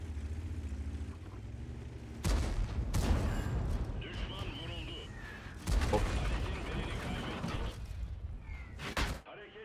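Tank cannon shots in a World of Tanks battle, two sharp, loud blasts several seconds apart with rumbling engine noise and clatter between them, while someone talks over the game.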